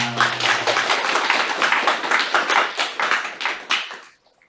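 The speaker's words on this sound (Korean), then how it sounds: "박수하겠습니다." A church congregation claps together at a Sunday service, a dense run of hand claps with a loose rhythmic pulse that fades out near the end, with no talking over it.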